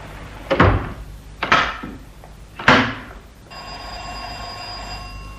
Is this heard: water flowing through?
no